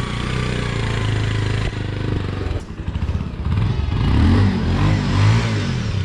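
A motorcycle engine while riding, a loud close rumble that dips briefly, then climbs again through rising revs and changing pitch.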